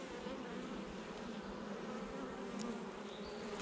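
Honeybees buzz in a steady, dense drone throughout a November hive inspection, the hum close and continuous with no voices.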